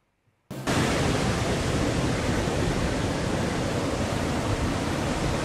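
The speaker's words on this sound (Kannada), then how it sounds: "ದಕ್ಷಿಣ ಕನ್ನಡ ಜಿಲ್ಲೆಯಲ್ಲಿ ಈ ಚಂಡಮಾರುತದ ಎಫೆಕ್ಟ್ ನಿಂದಾಗಿ ಅರಬ್ಬಿ ಸಮುದ್ರವು ಕೂಡ ರಫ್ ಆಗ್ತದೆ" Rough Arabian Sea surf, stirred up by Cyclone Montha, on the Dakshina Kannada coast: a sudden loud, dense roar of breaking waves starts after a brief quiet and holds steady and close.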